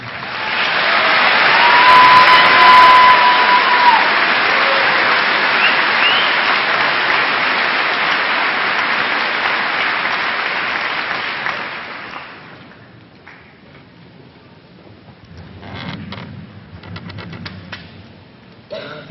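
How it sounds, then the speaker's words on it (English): Audience at a 2013 high school commencement ceremony gives a round of applause: dense, loud clapping sustained for about twelve seconds, then fading to scattered claps and faint crowd noise. "join me in honoring her with a round of applause"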